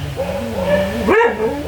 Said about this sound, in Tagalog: yung aso ko maingay